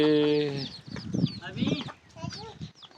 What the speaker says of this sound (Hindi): मुर्गी दे चूचे।